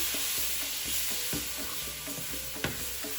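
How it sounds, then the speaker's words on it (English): A spoon scrapes and taps steadily around a pan while stirring semolina halwa after sugar syrup is added, over a constant sizzling hiss, with one sharper knock near the end. "You've got to keep making sure you stir it"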